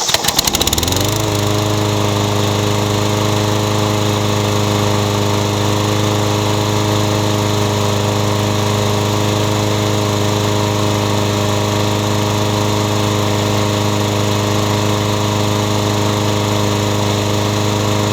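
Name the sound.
lawn mower engine running after oil change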